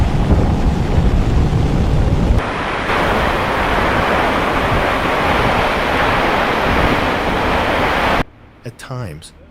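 Strong wind buffeting a campsite on an exposed island, loud roaring gusts pounding the microphone almost without pause, easing slightly partway through, then dropping away to a quieter stretch at the very end.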